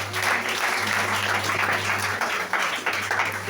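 A church congregation applauding during a service, sustained dense clapping from many hands filling the room steadily for several seconds, with a low hum underneath.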